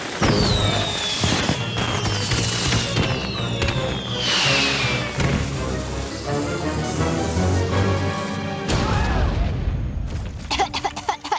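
Untested fireworks whistle upward and burst repeatedly with crackling pops and booms, a dense barrage that thins out near the end.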